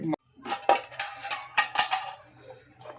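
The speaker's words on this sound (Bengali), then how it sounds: "এরকম একটা মাল্টিপারপাস মিষ্টিন বলে একে" A multipurpose metal mess tin with a handle, part of a soldier's kit, is handled, giving a quick series of bright metallic clanks and rattles close by, about eight knocks over a few seconds.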